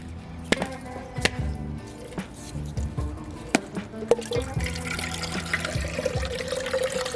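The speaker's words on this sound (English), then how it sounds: "Next, I'm gonna go ahead and crack open a coconut." A coconut being cracked open: several sharp, hard knocks ring out one after another, then liquid begins pouring and trickling steadily toward the end, all close and without talk.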